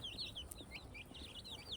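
Roosters fighting among free-range village chickens squawk and cluck in short, agitated bursts over a low background rumble, several birds calling at once close by.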